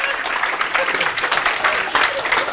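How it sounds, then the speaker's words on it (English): An audience gives a round of applause to staff at a flood recovery community forum, with steady, dense clapping sustained throughout at a moderately close distance. "If we can give a round of applause to the staff who've helped put this presentation together."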